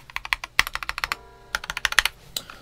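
Quick bursts of typing on a Mistel MD600 RGB Alpha Bluetooth 60% split mechanical keyboard, crisp clacky keystrokes and stabilizers in fast runs with a short pause between, close up.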